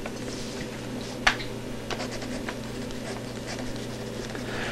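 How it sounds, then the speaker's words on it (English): Piano keys click under a notebook resting on a piano keyboard while a mechanical pencil writes, giving faint scratching and a few soft, sparse clicks with one sharper tap. "That strange clicking noise you hear in the background is the keyboard."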